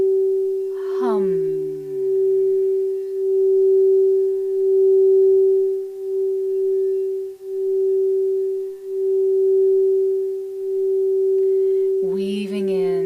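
Crystal singing bowls ring with one steady, sustained pure tone that holds for the full span at an even, moderate level, with a brief voice near the start and again at the end.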